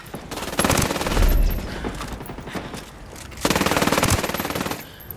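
Automatic gunfire in the video game Ghost Recon Wildlands: two loud, sustained bursts of rapid rattling shots with a deep thump between them, close and alone with no talk.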